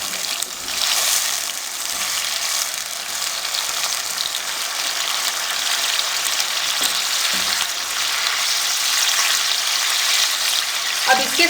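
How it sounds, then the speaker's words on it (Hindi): A mixture of jaggery, oil and milk sizzles and bubbles in a pan while being stirred for coconut halwa, a steady close frying hiss with occasional scraping clinks. "अब इसको हम अच्छे से मिक्स कर लेंगे।"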